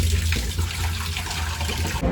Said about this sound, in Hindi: ये हमने इसमें पानी भर लिया है